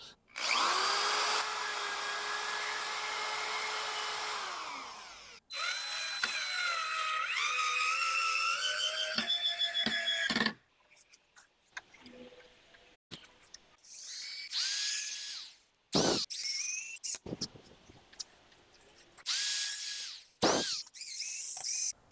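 A cordless drill whines steadily as it drives screws into raised bed frame boards, long runs at first, then shorter stop-start bursts with handling clunks between, close and without talk.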